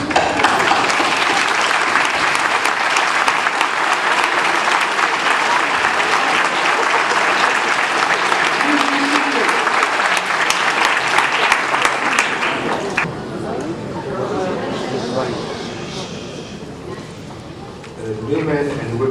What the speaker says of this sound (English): join me in applauding your family members